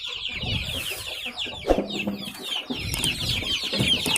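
Free-range village chickens cluck busily and continuously close by while being fed fermented coconut pulp feed in a backyard farm, with overlapping calls and a few louder squawks and no talk.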